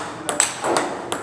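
A table tennis ball struck with a paddle faced in XIOM Omega 7 China rubber, giving a few crisp, hollow pings spaced irregularly over about a second, close and fairly clear against a quiet room.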